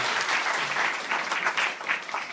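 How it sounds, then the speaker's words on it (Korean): An audience at a forum on lowering the voting age to 18 applauds to welcome a former lawmaker as a guest, a dense steady clapping that stays fairly loud throughout without any talk. "박수로 환영할까요?"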